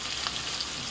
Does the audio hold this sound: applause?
no